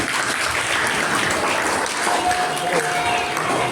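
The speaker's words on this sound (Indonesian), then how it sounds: "Beri aplaus untuk semuanya." Applause at a school Maulid Nabi celebration at an Indonesian elementary school, a loud, dense wash of clapping from a large crowd of children, sustained and steady throughout.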